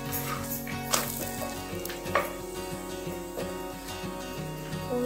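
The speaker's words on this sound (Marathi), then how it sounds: "त्याला आपण तूप लावून भाजून घेणार आहोत छान." A sesame and jaggery poli roasts in ghee on a hot pan, giving a steady soft sizzle with occasional sharper crackles, close and without talk.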